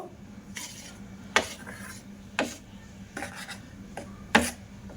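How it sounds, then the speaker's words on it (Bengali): A spoon mixing hot, freshly fried crispy jhuri bhaja with besan flakes in a metal bowl gives a few sharp scraping clinks at uneven intervals over dry rustling, with no talking. "তো চামচ দিয়ে আমি মিশিয়ে নেব"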